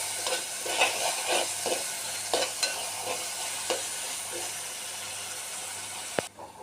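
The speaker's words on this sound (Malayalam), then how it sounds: "ഇഞ്ചി വെളുത്തുള്ളി പച്ചമുളക് ശരിക്കും അത് നമുക്ക് നല്ലപോലെ ഫ്രൈ ആവുന്നവരെ ഒന്ന് അയക്കിയെടുക്കാം" Ginger, garlic and green chili frying in a pan for gooseberry pickle, with a steady close sizzle and repeated scraping stirs, ending in a sharp utensil clack.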